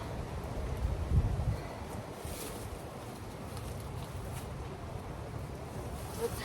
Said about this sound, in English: I know the wind is bad